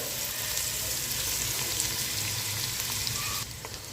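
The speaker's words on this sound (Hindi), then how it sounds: "प्याज डाल के इसको हम अच्छे से मिक्स कर देंगे" Onions frying in oil in a pan, a steady loud sizzle that continues close by and quiets slightly near the end.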